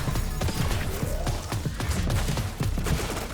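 A giant missile attack by Top Notch in a video game, a rapid barrage of sharp blasts and crackling impacts with a brief rising whoosh partway through, loud and steady from start to finish.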